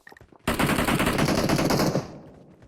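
Automatic gunfire in PUBG Mobile on the Livik map, a loud, dense burst of rapid shots lasting about a second and a half, then fading, with a few faint clicks just before.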